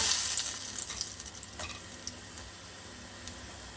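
Snack pieces frying in hot oil, pricked with a fork beforehand, give a steady close sizzle with small crackles and stirring clicks, loudest at the start and settling to a softer hiss, with no talk.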